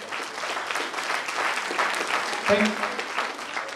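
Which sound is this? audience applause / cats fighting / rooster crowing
audience applause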